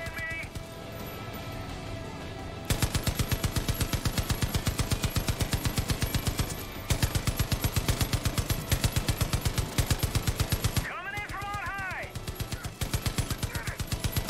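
A big machine gun in Far Cry 5 fires long, rapid, evenly spaced bursts, loud and close, for most of fourteen seconds, with a short pause and a whistling sweep near the end.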